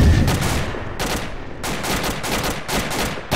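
Sustained loud gunfire and explosive bursts roar through a battle in a military shooter game as an anti-tank rocket launcher is fired at enemy buildings, the blasts overlapping in dense waves with brief lulls.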